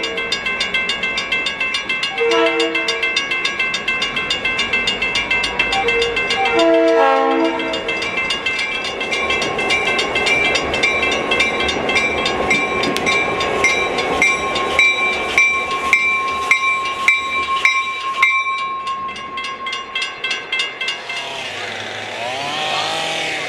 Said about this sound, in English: the 89 can pass through 47th Avenue